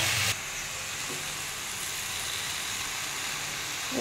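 Spinach and pui greens dropped into a hot pan for chachhadi, a loud burst at first contact settling into a steady, dense hiss that holds to the end, with no talking.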